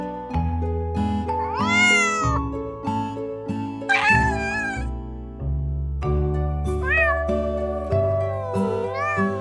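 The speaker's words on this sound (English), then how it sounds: "Cat." A domestic cat meows repeatedly, a series of clear, close, tonal calls that rise and fall in pitch, set over a sustained musical backing.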